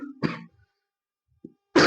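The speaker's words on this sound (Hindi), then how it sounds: "खांसी आ रहा है।" A single short cough, then a faint throat sound, with a brief voice starting at the end.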